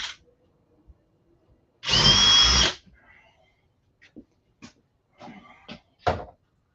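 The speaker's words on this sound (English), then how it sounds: "So I just drilled that with a 5/16 brad bit, but we'll use a quarter chaser." A power drill spins a quarter-inch chaser bit into a cheap wooden fence picket cabinet door, one steady whirring burst of about a second, followed by light clicks and handling knocks.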